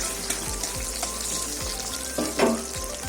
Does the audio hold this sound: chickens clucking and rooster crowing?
no